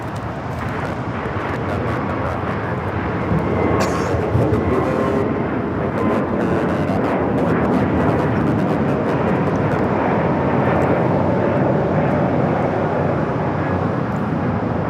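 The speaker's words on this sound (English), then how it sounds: "This is Spirit Airlines 1671 taking off to Dallas Fort Worth on the A321neo." A Spirit Airlines Airbus A321neo takes off from LAX bound for Dallas Fort Worth, its engines producing a loud, steady broadband roar that holds strong and continuous throughout, with no voices.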